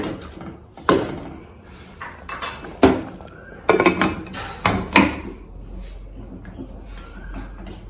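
Rice stirred in an open pressure cooker pot for corn capsicum pulao, with several sharp metallic clinks and scrapes of a spoon against the pot, close and distinct, separated by quieter gaps.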